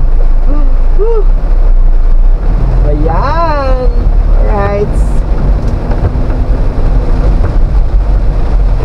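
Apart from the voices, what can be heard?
heavy downpour of rain during motorcycle ride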